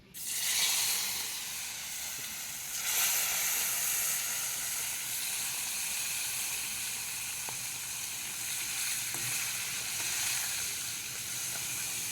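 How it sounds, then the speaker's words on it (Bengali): Koi fish hit hot oil with a sudden loud sizzle that settles into a steady, close frying hiss, with occasional pops and no speech. "তেল গরম হয়ে গেছে, এবার মাছগুলোকে দিয়ে দেবো।"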